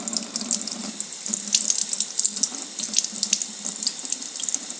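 Tap water runs into a sink as a paintbrush is rinsed under it, a close, steady hiss of flowing water with small splashing fluctuations throughout.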